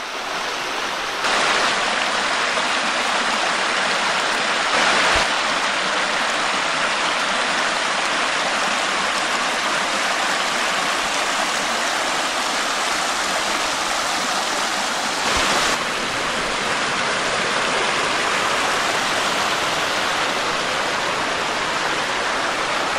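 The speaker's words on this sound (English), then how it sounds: "And just all those cascading falls up there" Cascading waterfalls and a rushing stream on the Sand Springs hiking trail make a loud, continuous, even roar of water that fills the whole stretch without a break.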